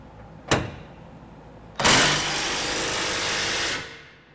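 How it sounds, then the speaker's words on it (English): An electric impact wrench with a 1 1/8 inch socket snugs the top bolt of a trailer hitch on a 2008 Dodge Ram 1500. A sharp knock comes first, then one steady, loud, buzzing burst of about two seconds, close by. "We're going to be using our electric impact with a 1 1/8 inch drive."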